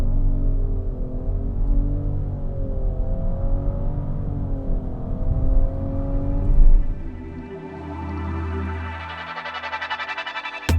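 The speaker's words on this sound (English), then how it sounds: "Start out from a dig here. See what the Rogue can do." A 2024 Nissan Rogue pulls away from a standstill, its engine note rising steadily in pitch under hard acceleration, then easing into a quieter cruising whir as the load drops; close cabin sound, no voices.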